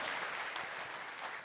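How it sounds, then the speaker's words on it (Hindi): Audience at a large BPSC exam seminar in Patna claps loudly for the technical team, a dense, steady wash of applause that holds through the whole moment with no talk over it. "एक बार जोरदार तालियां हमारी टेक्निकल टीम के लिए"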